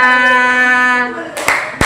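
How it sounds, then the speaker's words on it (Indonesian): Brief claps in a primary school classroom lesson, two sharp broadband bursts arriving near the end after a sustained tonal hum fades, fairly close and short-lived. "Oke, tepuk tangan semuanya."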